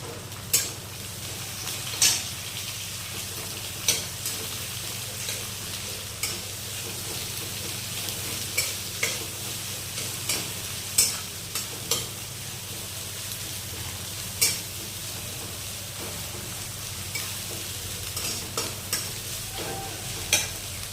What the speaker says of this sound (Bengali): এবার আমরা এর মধ্যে দিয়ে দেব চেরা পেঁয়াজগুলো, আর দেব চেরা কাঁচা লঙ্কাটি।